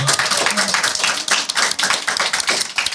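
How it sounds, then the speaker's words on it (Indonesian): An audience claps for two guests on an Indonesian talk show, a dense, loud run of sharp hand claps with a rapid uneven rhythm that lasts throughout. "Tepuk tangan dulu untuk mereka berdua."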